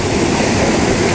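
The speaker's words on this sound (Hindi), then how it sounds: "यानी पानी पंखे को चलाता है, और वो पंखा जो है वो फिर चक्की को चलाता है" Water rushes and churns through the turbine fans of a pan chakki water mill in Bumburet, Kalash, a loud, steady roar of flowing water heard up close with no voices.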